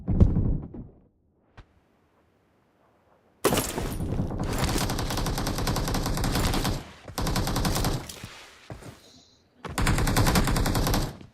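Video game match gunfire: a couple of isolated shots at first, a long silence, then heavy sustained automatic bursts separated by brief gaps, loud and close.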